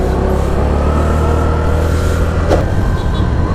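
A Honda Navi motorcycle on a test ride along the road gives a loud, steady engine drone with wind and road noise. A brief voice or sharp sound stands out partway through.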